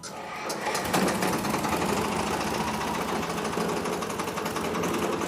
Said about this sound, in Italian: Un diesel a 4 tempi del Sametto, della Same. 4 tempi, 2 cilindri.